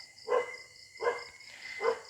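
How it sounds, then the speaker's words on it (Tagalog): A dog barks three times at roughly even intervals, each bark a short moderately loud burst at middle distance, with quiet gaps between them. "Yung aso ko nag-iingay pa"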